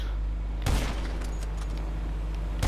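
Gunfire in GTA V during a fight over an ATV, two sharp loud shots about two seconds apart over a steady low engine drone.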